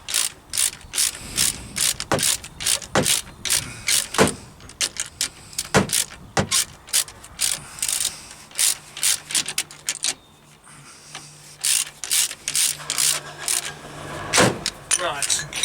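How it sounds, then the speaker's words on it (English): A spanner ratchets on a brake caliper bolt of a Jaguar X-Type during a front brake pad and disc change, sharp rapid clicking bursts repeating close up, with short pauses between strokes. "Stick on the spanner."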